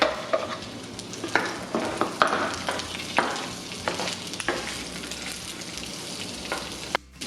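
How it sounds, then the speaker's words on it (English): Garlic and onion sizzle steadily in a hot pan while a utensil stirs and scrapes at irregular intervals, close and clear, with no voices. "When you hear the sizzling sound of the garlic, that means it's ready."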